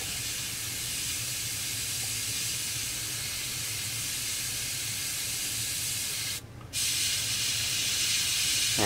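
Airbrush spraying thin paint in a slow blending pass, a steady close hiss lasting the whole stretch, with one brief break in the middle before the airflow resumes.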